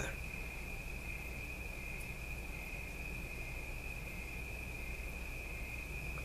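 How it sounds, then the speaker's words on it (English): Continuous high-pitched chirping of crickets, steady and even, over a faint low background hum. "Let's just sit down and listen to the crickets together."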